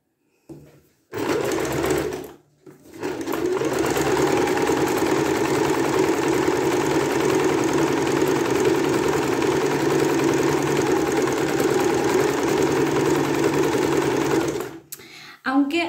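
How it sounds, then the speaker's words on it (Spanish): A sewing machine runs a zigzag stitch along the edge of cross-stitch fabric, a loud, close, steady mechanical whirring that starts after a couple of brief bursts and continues for over ten seconds before stopping. "lo primero que voy a hacer va a ser hacerle el zigzag a la tela de punto de cruz para rematarla"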